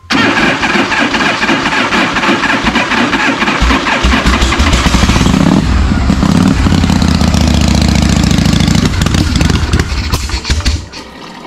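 A 1974 AMF Harley-Davidson Shovelhead, a 74 cubic inch V-twin motorcycle, is running loud and close throughout with a rough, throbbing rumble, revving up midway before it cuts off near the end; no voices.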